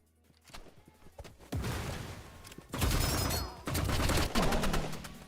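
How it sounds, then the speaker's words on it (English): Gunfire and a grenade in the video game Marvel Rivals: loud sustained sprays of automatic fire in several bursts, with blasts, close and continuous with no voice. "So Kazym tosses a grenade onto the ramp in case the enemy is hiding to reload, then pushes up and sprays while he's caught mid-animation"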